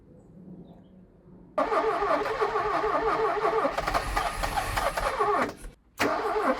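Someone cranks a Porsche 924 that has sat for 30 years. The starter churns loudly and unevenly for about four seconds, stops briefly, then cranks again close by without catching.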